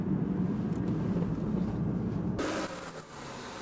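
An Aston Martin DBS engine rumbles steadily at low pitch, then the tone shifts and thins near the end as a faint high whine appears.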